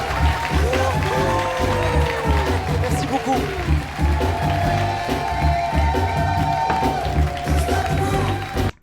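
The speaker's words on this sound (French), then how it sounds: "Les acclamations, ouais, c'est génial, super." Comedy club audience applauding and cheering, a dense sustained roar of clapping and voices with a steady busy texture, while someone briefly speaks over it near the end.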